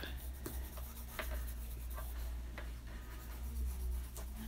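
Pen inking lines on paper while drawing a simple pumpkin face, with soft continuous scratching and short strokes close up, over a steady low background hum.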